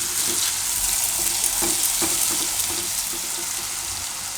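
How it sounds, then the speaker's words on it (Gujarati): Khandvi pieces with green garlic frying in oil while being stirred, a dense continuous sizzle with light repeated scraping strokes, close and steady throughout. "અડધીક મિનિટ માટે ફેરવી લેવાનું તેલમાં."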